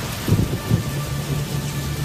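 Heavy rain falls in a steady broadband hiss, with a couple of low thunder rumbles early on and a faint hum underneath.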